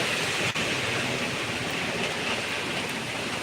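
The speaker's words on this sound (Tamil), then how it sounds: "நல்ல மழை" Heavy rain pours down in a steady, dense hiss that stays loud and even throughout, with no voices over it.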